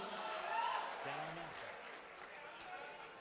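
Applause from the audience at an international mushaira in Sharjah, a broad distant wash of clapping at a low level, with faint voices and tonal sounds over it.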